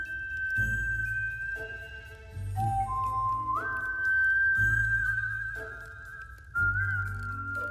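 A game character in My Time at Sandrock whistles a tune: a clear, sustained melodic whistle sliding between pitches over a soft rhythmic backing track, with no talking.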